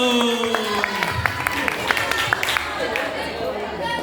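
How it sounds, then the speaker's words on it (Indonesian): Students in a senior high school classroom in Musi Rawas Utara applaud in a brief, scattered burst of claps, with voices talking over and around it. "Tepuk tangan dulu."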